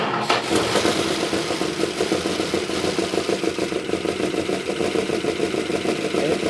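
The engine of a 1971 Plymouth Roadrunner turns over on a weak starter in a sustained, rough, rhythmic churn. It is loud and close, runs for several seconds without stopping, and no one talks.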